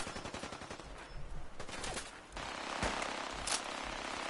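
Gunfire from a weapon in Fallout 4 on very hard difficulty, a few sharp shots in quick succession followed by a sustained noisy burst and another crack, loud against game ambience.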